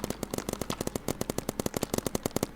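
Rapid bursts of paintball gunfire in the Roblox game Big Paintball, a dense steady rhythm of sharp shots firing close and loud throughout, with no talking over them.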